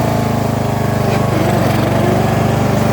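A Craftsman DLS3500 riding lawn mower engine runs at a steady low idle after sitting unused with an uncleaned carburetor, a loud, close, rapidly pulsing chug that holds constant throughout.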